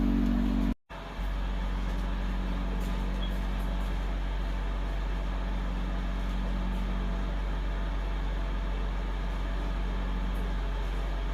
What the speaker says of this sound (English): So I just turned on my fan on my wood stove and closed my dampener